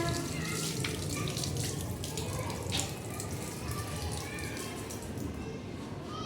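Tap water running steadily into a sink while hands are washed, a constant close splashing rush with faint drips over it.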